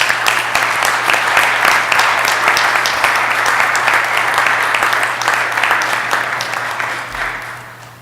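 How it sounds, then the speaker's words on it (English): A city council meeting audience breaks into steady, dense applause that carries on for several seconds, then tapers off toward the end. "give them a round of applause."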